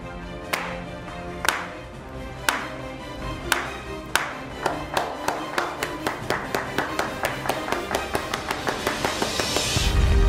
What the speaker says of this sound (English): let's slow clap it out.